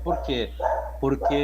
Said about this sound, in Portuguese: tem um cachorro latindo agora aqui perto de casa